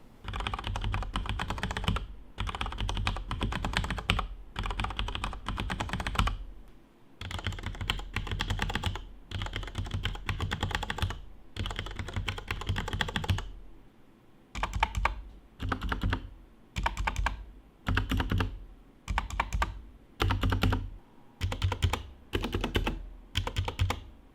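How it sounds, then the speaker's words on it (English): Steady bursts of typing on mechanical keyboards with Cherry MX Red switches, including a Corsair K68, rapid clacking keystrokes in several runs separated by short pauses, close and fairly loud. "Here's the sound comparison between a Cherry MX Red with no gasket and the K68."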